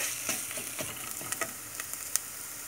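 Soft sizzling of chopped food frying in a pot over low heat for sun-dried tomato soup, with scattered scraping clicks as it is gently stirred; fairly quiet and steady.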